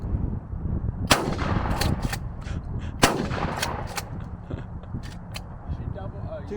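Several loud shotgun blasts from a New England Pardner pump shotgun firing small-pellet target loads at 100 yards, outdoors, spaced out with sharp cracks and a few lighter clicks and handling sounds in between, with voices talking nearby.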